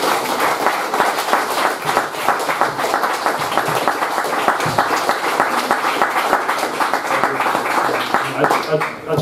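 An audience at a lecture on British Hispanists applauds steadily for several seconds in a hall, dense clapping with voices mixed into it, fading slightly at the end.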